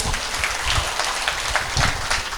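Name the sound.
audience clapping loudly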